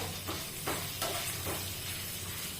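Green gram dosa mixture is sautéed with red chillies and garlic in a pan, a steady close sizzle with a few stirring scrapes and no talking.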